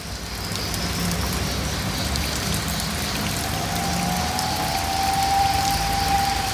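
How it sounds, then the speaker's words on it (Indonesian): Rain falling steadily in Kepahiang, a continuous soft hiss of drops on surfaces, with a faint passing vehicle whine near the end. "siang ini Kepahyang kembali diguyur hujan"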